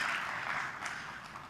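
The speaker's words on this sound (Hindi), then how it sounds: "मेरे लिए ताली बजा लो।" Audience clapping at a railway presentation by a government minister, a brief burst of scattered hand claps heard at moderate distance without speech.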